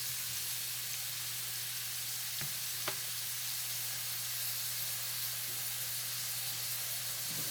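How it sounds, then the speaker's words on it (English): A whole chopped onion frying in a pan, a steady loud close sizzle and hiss with a constant low hum underneath and a couple of faint clicks, no talking. "So we put in there. Let these fry up kind of good."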